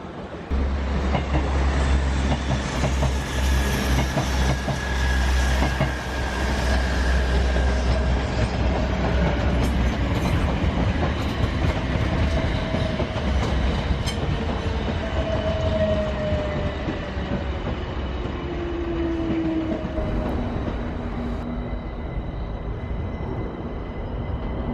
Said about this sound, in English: 100 trains an hour.